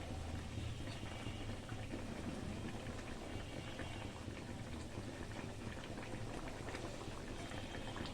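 Catla fish curry broth at a full boil in a cooking pot, a dense, continuous bubbling wash that stays even and moderately loud throughout with no voices.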